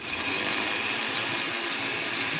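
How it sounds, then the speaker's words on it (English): A Dremel rotary tool spins up at a medium speed setting for cutting a spent bullet shell casing, a loud, steady high-pitched whine that holds constant close by, with no voices. "So I'm going to turn the Dremel on here"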